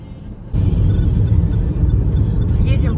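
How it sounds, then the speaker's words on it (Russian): A car drives along the Shchelkovskoe highway in Moscow, its steady low road rumble and engine drone filling the cabin after a quieter first half-second, with a voice speaking briefly over the noise. "Едем по Щелковскому шоссе"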